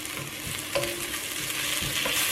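Tomatoes sautéing in a pan for egg biryani, a loud close sizzle with a few soft stirring scrapes over a couple of seconds, without speech.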